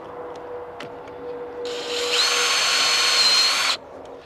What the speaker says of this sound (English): I'm gonna pre-drill all of this through this plastic